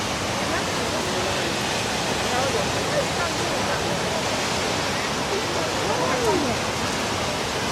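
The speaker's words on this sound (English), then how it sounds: "that's the waterfall there, look" Constant roaring rush of Düden Waterfall in Antalya, dense and loud, with faint voices barely audible underneath.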